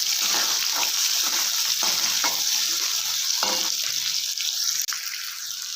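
Chopped onions and coriander sizzle in a hot pan while a spoon stirs them, with steady frying hiss and several distinct scraping strokes against the pan, close and clear with no talking.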